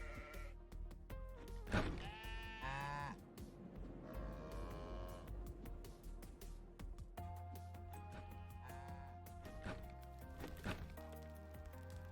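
Farm sheep and cows in the top-down survival game Necesse bleat and low repeatedly, with game music or ambience running steadily beneath. No one speaks.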